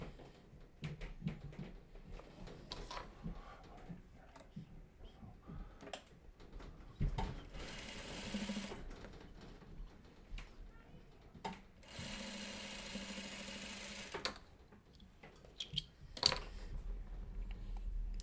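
A sewing machine stitches quilt block seams in bursts of fast, steady whirring, stopping and starting several times over a quiet room, with light handling clicks between runs.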